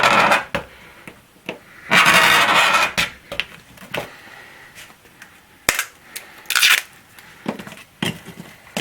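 Plexiglass being trimmed for an Original Xbox case mod window on a black cutting mat: a run of sharp snaps, clicks and scraping bursts, several loud cracks standing out at irregular intervals, close up with no talking.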